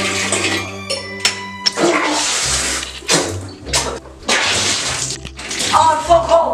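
A toilet flushes with a loud close rush of swirling water in several surges, broken by sharp clatters and splashes, with music tones underneath.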